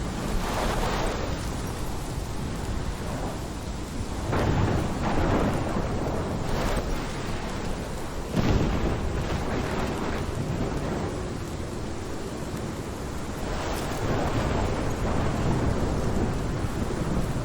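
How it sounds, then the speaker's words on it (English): A thunderstorm in the video game Life is Strange: dense, steady rain roars throughout, with heavy low rumbles of thunder rolling in and swelling at intervals, loud and close, with no voices. "This is my storm. I caused this."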